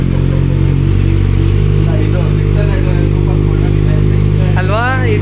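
Kawasaki ZX-6R sport motorcycle engine held at a loud, steady high idle close by, with rising rev sweeps near the end; voices talk over it.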